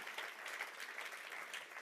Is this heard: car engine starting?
no